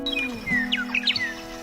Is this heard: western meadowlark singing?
yes